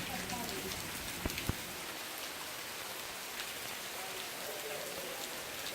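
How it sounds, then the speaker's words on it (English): Rain falls steadily on an outdoor training pool in Miami during a lightning warning, a soft continuous patter with a few sharper nearby drips or taps early on. "look at this rain"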